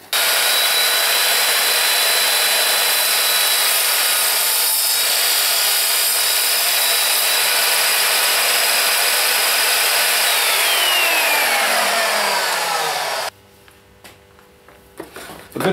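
An Evolution Fury 3-S saw cuts through aluminium, a loud, continuous harsh grinding rasp that holds steady for about thirteen seconds before stopping abruptly, leaving faint rattles and quiet background.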